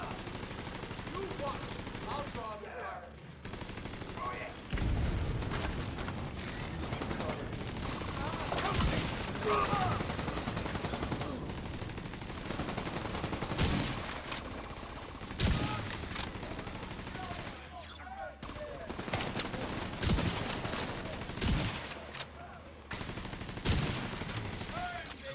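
Rapid automatic gunfire in the video game The Division, with bursts of machine-gun fire coming in waves over roughly 25 seconds, broken by brief pauses, while a player talks quietly underneath.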